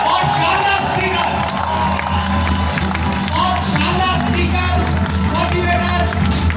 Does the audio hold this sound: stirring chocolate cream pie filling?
no